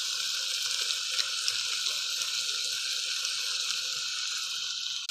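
Homemade red masala, salt and turmeric sautéing in hot oil give a steady, close, continuous sizzle with a bright hiss and no pauses or talk.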